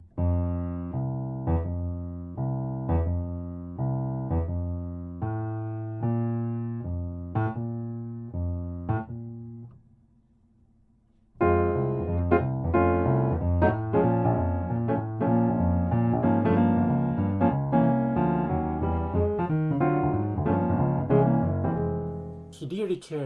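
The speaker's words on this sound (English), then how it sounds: "Let me demonstrate his left hand in a slow tempo and the real tempo." A piano left-hand part from a solo plays first slowly as separate notes, then after a brief pause at real tempo in a dense, busier run, close and clear.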